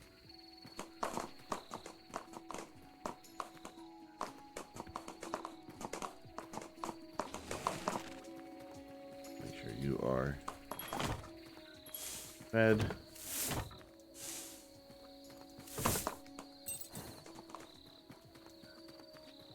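A horse in a video game walks with irregular clip-clop hoofbeats, some clear and close, others softer, while someone talks over them.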